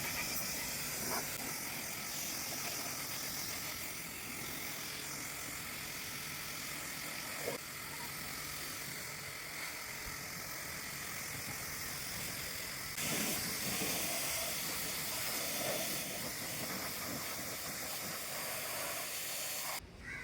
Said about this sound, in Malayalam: ഇനി നമുക്ക് പ്രഷർ വാഷ് യൂസ് ചെയ്ത് ഇതെല്ലാം കഴുകി കളയാവുന്നതാണ്